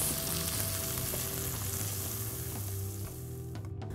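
Cashew nuts and chopped tendli sautéing with goda masala give a continuous, fairly quiet sizzle with a faint hum beneath it.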